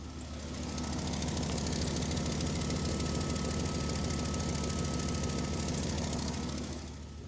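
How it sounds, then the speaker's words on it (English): A Dodge Ram with newly fitted headers idles steadily with a deep, even rumble and a small exhaust leak up front. It is close, constant and loud for the whole clip, with no one talking. "I'm pretty happy with how that sounds. There seems to be maybe a small exhaust leak somewhere up front"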